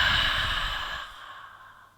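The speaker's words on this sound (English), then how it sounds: "We're going to breathe in through the nose and breathe out through the mouth." One long exhale through the mouth during an office stretch yoga session, a soft airy rush that fades over about two seconds, close and with no speech.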